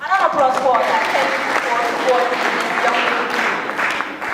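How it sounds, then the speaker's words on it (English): Audience at a book launch ceremony claps in a steady, fairly loud round of applause, with voices and chatter mixed through the clapping. "Another applause for that."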